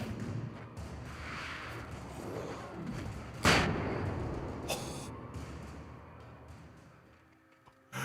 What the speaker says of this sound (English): I guess the flashbangs are coded so that they explode on contact